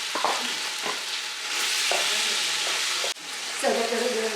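Skinless sausage browns in hot oil in a pan, a loud continuous sizzle with light stirring knocks and a brief drop near the end, close by.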